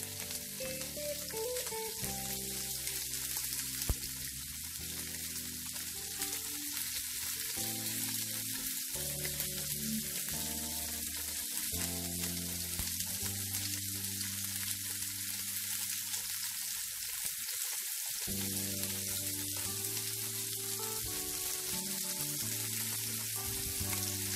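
Shrimp fry in a pan for scrambled egg with shrimp, giving a steady, even sizzle that runs the whole time beneath prominent background music.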